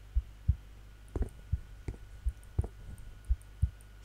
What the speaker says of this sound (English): I'm not sure if you could hear this heart, but I can actually, because it has a lot of bass in it